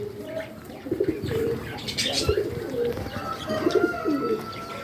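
Several pigeons coo over and over in soft, throaty rolls, joined by a few light chirps, with steady outdoor background noise and no clear talking.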